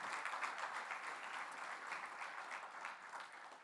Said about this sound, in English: we want to give a round of applause to the exceptional people here in Cleveland